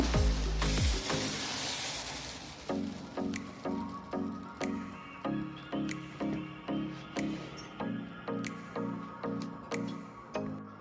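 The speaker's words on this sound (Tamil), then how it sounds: "நான் 2 கரண்டி மாவு எடுத்துக்கிறேன் ஊற்றுறதுக்கு" Dosa batter, two ladlefuls, poured onto a hot dosa griddle for a Madurai-style dosa, a broad hiss at first and then a steady run of evenly spaced soft scraping strokes over a low sizzle, close and alone.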